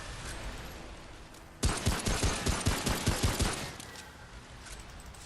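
Enemy gunfire in a video game: a rapid burst of about a dozen sharp automatic shots in steady rhythm, moderately loud, rising out of quiet background noise and stopping after a couple of seconds.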